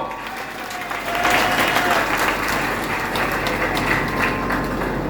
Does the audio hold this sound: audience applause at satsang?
yes